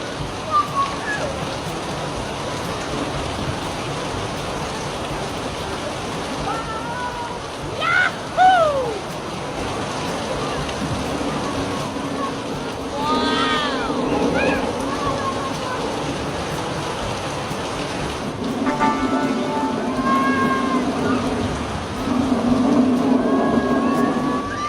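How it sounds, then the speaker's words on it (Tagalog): Steady hiss of heavy rain fills the whole stretch, with children shouting and playing over it and splashy bursts now and then. "Parang ang lakas ng ulan."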